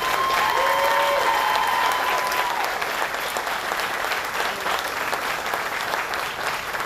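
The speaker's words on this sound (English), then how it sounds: "I just want to give her one more round of applause." Sustained applause for a breast cancer survivor at a governor's remarks during a breast cancer motorcycle ride stop in Buffalo, with steady dense clapping from a crowd throughout and a faint tone early on.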